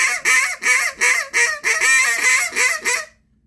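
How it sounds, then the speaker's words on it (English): A Cajun squeal blown on a Duck Lander duck call, a loud, close run of about nine sharp, nasal honking notes in quick, even rhythm, then silence. "So I'm going to start with a Cajun squeal."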